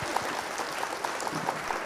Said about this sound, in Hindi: एक बार शर्म हटाइए और जोरदार तालियां बजा के अपूर्व।